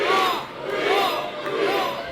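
Wrestling crowd at a heavyweight title bout roaring loudly for the challenger, a sustained dense cheer with shouts rising and falling throughout.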